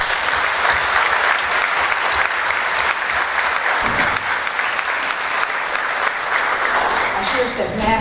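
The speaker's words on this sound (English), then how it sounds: "let's please give a warm round of applause and appreciation for our master of the ceremony" A warm, sustained round of applause at a Rotary Club oratorical competition finals, honoring the master of ceremonies; loud, dense clapping from a large audience that holds steady throughout.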